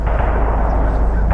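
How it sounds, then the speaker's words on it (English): Gunfire from a nearby shooting range, heavy low booming reports that blur into a continuous loud rumble across the whole moment, with no voices over it. "hear them guns going. Must be a shooting range around here."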